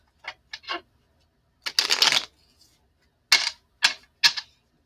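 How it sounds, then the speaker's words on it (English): Several short bursts of tarot cards being shuffled, a couple of quick riffles then a longer one, followed by three more crisp shuffles, close and clear. "Let's do some shuffling."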